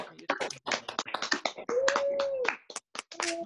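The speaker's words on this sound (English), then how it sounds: "Can I have you clap, please, for Jacob?" An audience at a school closing chapel and graduation claps for a student: a quick run of light claps and taps that grows sparse, with a voice heard over part of it.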